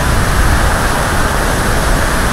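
Kelavali waterfall in Satara pours down amid spray and mist, a loud, unbroken broadband roar of crashing water that holds steady throughout.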